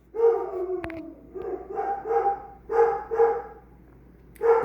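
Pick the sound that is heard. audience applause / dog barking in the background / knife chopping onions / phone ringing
dog barking in the background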